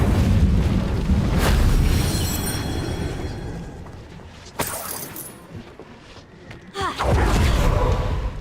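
Fire spell cast in a wizarding action game, heard as whooshing magical bursts with crackling flare-ups and booming impacts, separated by quieter ambient stretches.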